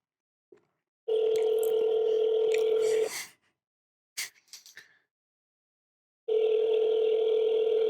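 Telephone call being placed as a prank, a loud steady dial tone for about two seconds, a few short clicks and keypad taps, then the tone returns strongly; no talking.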